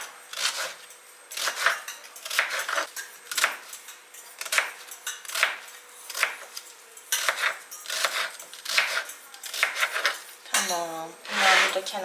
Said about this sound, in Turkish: Patatesi iri iri doğramamızı söylüyorlar ve soğanı.